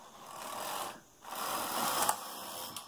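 Brother 8-button knitting machine carriage sliding across a row while knitting Fair Isle, a close continuous rasping whoosh that pauses briefly, then resumes with small clicks.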